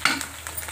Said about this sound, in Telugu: అల్లం వెల్లుల్లిని పచ్చివాసన పోయే వరకు వేపేద్దాం అండి